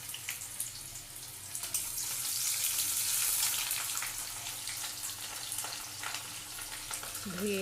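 Chopped onion frying in oil with dried red chilli, bay leaf and whole cumin for a Bengali fish curry with potato, giving a steady, broad sizzle throughout with a soft hiss and faint scraping.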